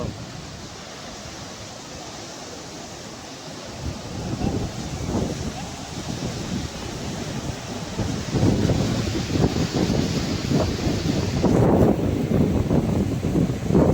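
Strong wind by the sea buffets the microphone in a steady roar, with surging surf-like noise building louder over time and no clear talk.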